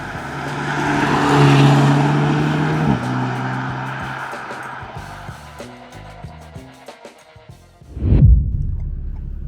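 An Alpine A110 GT sports car drives along a winding mountain road in the Vercors, its engine note rising loud and close, easing off as it changes pitch through gear changes, then surging again in a sharp final burst.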